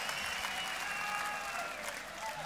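A crowd at a rock concert claps steadily and continuously, a dense wash of applause heard from within the audience, fairly distant and even in loudness.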